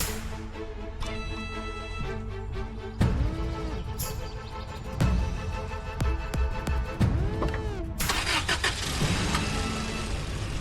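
A jeep engine cranks, catches and revs before the vehicle pulls away, with rising and falling engine tones mixed with background music.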